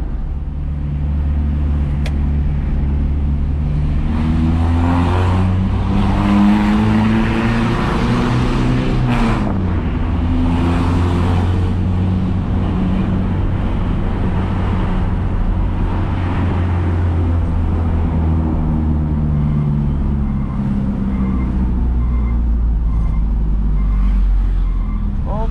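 A Mitsubishi L300 van with an aftermarket wrapped exhaust rumbles with a deep, loud bass drone, its engine note rising and falling steadily while driving, close by and with no talk.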